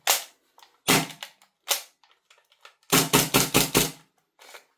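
A VORSK VMP1 gas airsoft pistol fires BBs indoors in a room: sharp, loud cracking shots, a few spaced single shots followed by a quick burst of five rapid reports, close and alone, with small clicks between.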